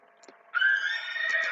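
Horse neigh from a built-in animal sound library in Scratch 3, a single bright whinny rising after a short quiet start and holding steady and loud to the end, with no talk.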